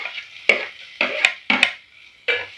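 Finely chopped onions and drumstick leaves sautéing in a pan: an airy sizzle beneath sharp spatula scrapes and taps against the pan, coming in short bursts with brief pauses between them.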